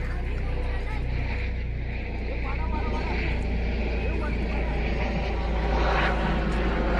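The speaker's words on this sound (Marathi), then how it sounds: "पलीकडच्या बाजूला हेलिकॉप्टर सुद्धा आलाय बघायला" A helicopter seen over water where people are net fishing, a low continuous engine and rotor drone heard at a distance under wind and the voices of people talking.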